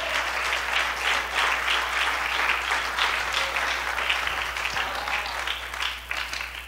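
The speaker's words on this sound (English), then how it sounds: "Would somebody give the Lord a great big hand clap of praise?" A church congregation claps hands steadily and enthusiastically in praise, a dense, sustained wash of applause with no talking over it.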